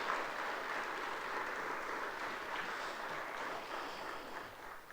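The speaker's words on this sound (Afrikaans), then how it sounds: "Kom ons gee vir 'n hande klap." Sustained applause from a church congregation, a dense even wash of clapping that holds steady throughout with no speech over it.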